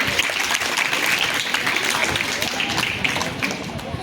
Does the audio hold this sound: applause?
yes